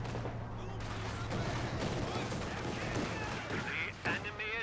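Gun barrage and rifle fire in the Company of Heroes 2 strategy game, a continuous thick rumble of shots and explosions that fills the whole stretch and runs under a commentator's talk.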